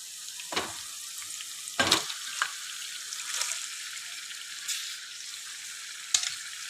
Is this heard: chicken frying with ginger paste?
yes